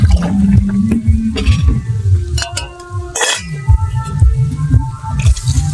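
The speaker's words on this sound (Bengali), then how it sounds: "ডালের মধ্যে পরিমাণ মতো জল দিচ্ছি" Water splashes as it is poured into lentil dal in a cooking pot, close and fairly loud, mixed with clinks of the pot and utensils.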